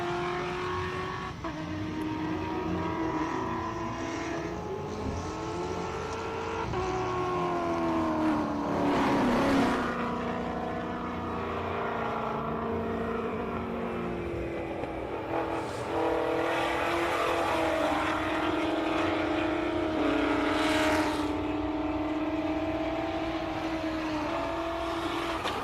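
An Alfa Romeo race car climbing the Simola Hillclimb course, its engine droning loudly and steadily with rising and falling revs through gear changes, heard at a distance throughout.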